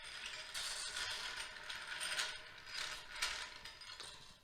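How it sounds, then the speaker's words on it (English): A hand-cranked grinding wheel sharpening a sickle bar in a repair shop, giving a steady rasping, whirring grind with rhythmic swells as the crank turns, close and continuous with no talk. "you just pull this up to the grinding wheel and turn that crank"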